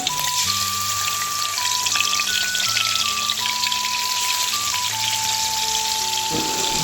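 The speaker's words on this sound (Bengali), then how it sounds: "প্রথমে কড়াইতে তেল দিয়ে মাছগুলো এক এক করে ভেজে নেওয়া হবে" Fish frying one by one in oil in a wok for a Bengali village-style curry, a steady crackling sizzle running beneath prominent background music.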